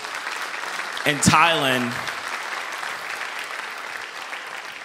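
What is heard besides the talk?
audience applause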